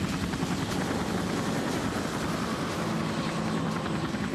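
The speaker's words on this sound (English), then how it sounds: "We hear the helicopter sound" Steady, loud rotor drone of a helicopter fills the whole stretch with a constant rumbling throb and no pauses, with no voices.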